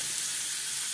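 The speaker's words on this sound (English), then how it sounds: "You hear that sizzle?" Steady, close-up sizzling of pork steaks frying on a hot Ozark Trail griddle, a continuous bright crackling hiss with no pauses.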